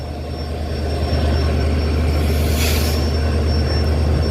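An EMD diesel locomotive at full throttle at a railway station sends out a loud, sustained low engine drone with a steady high whine, swelling slightly louder partway through, with a brief hiss near the end.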